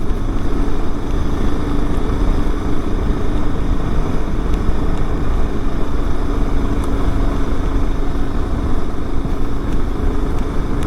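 Riding a 1997 BMW F650 motorcycle through Hickory Run State Park: a steady, loud engine drone mixed with rushing wind noise, continuous and close, with no talking.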